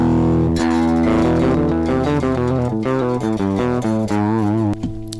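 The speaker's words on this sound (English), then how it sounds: "we're gonna add in a JS effect called distortion" Electric guitar run through REAPER's stock JS distortion effect for a Master of Puppets style tone: loud, saturated palm-muted chugs and riffing notes played alone, with a sudden stop near the end.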